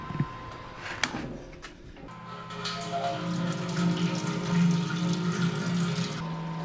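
Clear liquid runs steadily from the tap of a homebrew beer brewing vessel, a continuous close splashing flow that starts after a few knocks and clanks and holds to the end.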